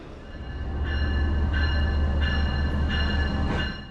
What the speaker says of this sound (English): our train pulls into the platform